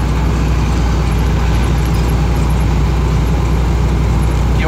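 Loaded Ford Cargo 4532 truck climbing the Rodovia dos Imigrantes mountain road in hot weather, a constant heavy diesel drone with a strong low hum, steady and close, with no talking.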